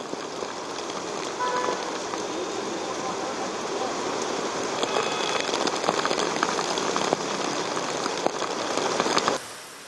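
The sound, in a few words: heavy rain falling in Mumbai's Kalanagar area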